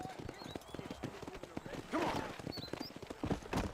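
Galloping horse in the video game Red Dead Redemption, hoof clip-clop beating rhythmically and fairly close, with a brief whinny, under steady talk and other game sounds.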